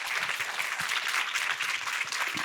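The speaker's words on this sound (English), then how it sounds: "Let's give them a round of applause." Conference audience applauding a panel: dense, even clapping at close to moderate distance, sustained throughout without speech.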